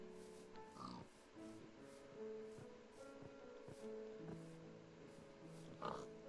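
Minecraft pigs oink and grunt faintly in a game world, a few short snorts scattered over quiet background music and ambience.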